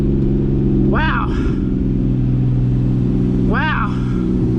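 A 2014 Porsche Cayman S engine hums steadily and loudly throughout, with a constant low drone while a person's voice rises over it twice.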